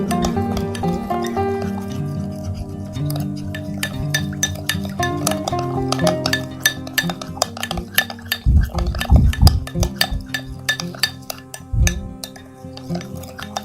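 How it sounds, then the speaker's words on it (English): A spoon stirring a corn starch, lemon and salt mixture in a bowl gives repeated close clinks and scrapes against the bowl, which grow busier toward the end, with faint tonal background and no talking. "Mix it well until the salt will dissolve completely."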